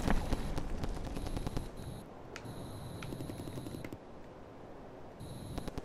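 Rapid gunfire rattles in short bursts while shooting at ships in the video game Tragedy of Prince Rupert, with sharp repeated shots and brief pauses over a constant background din.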